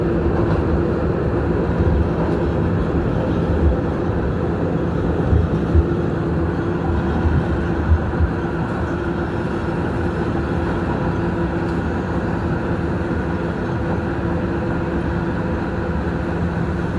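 An R211A subway car on the New York B local line runs steadily with a continuous rumbling roar and mechanical hum, loud and close for the whole stretch, with no one talking.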